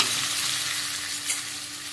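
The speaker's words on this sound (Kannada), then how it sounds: "ಟೊಮೆಟೊ ಚೆನ್ನಾಗಿ ಫ್ರೈ ಆಗಬೇಕು." Tomatoes fry in a pan over fried onions for Mangalore-style chicken sukka, giving a steady, close hiss of sizzling with one brief stirring clatter near the end and no talking.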